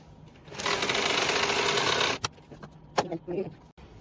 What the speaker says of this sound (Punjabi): ਇਸ ਤਰ੍ਹਾਂ ਹੀ ਆਪਾਂ ਇੱਧਰ ਸਲਾਈ ਲਾਉਣੀ ਹੈ